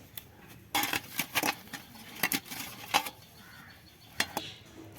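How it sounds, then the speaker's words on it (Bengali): A metal plate being handled while white oil is rubbed over it, a series of close clinks and clattering metallic knocks in irregular bursts, with no talk. "থালা নিয়ে নিয়েছি থালার মধ্যে একটু এই যে সাদা তেল মাখিয়ে নিব"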